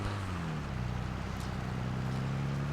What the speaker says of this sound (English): And the sound that the tractor makes,